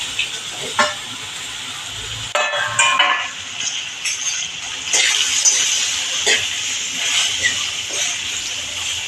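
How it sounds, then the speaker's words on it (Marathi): Chopped ridge gourd drops into a hot pan of tempering with mustard seeds, cumin, asafoetida and turmeric, setting off a loud sustained sizzle with scattered clinks and stirring scrapes close by. "त्यावर आता आपण हे दोडकं फोडणीला टाकणार आहोत."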